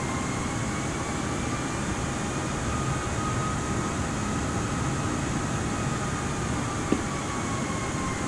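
An Airbus A320neo airliner in the Microsoft Flight Simulator 2020 game gives off a steady, even engine and cabin drone that holds at the same level throughout, with one brief click near the end.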